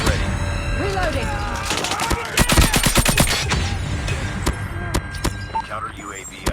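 Rapid nailgun fire in Call of Duty Mobile, with sharp repeated cracks in dense bursts over a busy multiplayer battle mix, some shots loud and close, others scattered, under game voice callouts.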